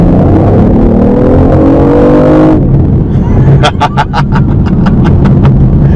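A BMW i8 plug-in hybrid sports car revs loudly and continuously, its engine note climbing steadily before a sharp shift, then a run of rapid sharp pops and crackles burst from the exhaust close by.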